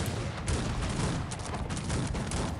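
A dense, continuous rattle of booming cannon fire and explosions in the video game Cossacks 3, loud and relentless, like a battle raging with cannons firing over and over.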